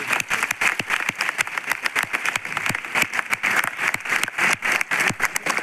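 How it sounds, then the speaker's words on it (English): An auditorium crowd applauds the Smart India Hackathon winners, dense overlapping claps with sharp individual hand strikes standing out, loud and sustained throughout. "Can we have a huge round of applause for the SIS winners?"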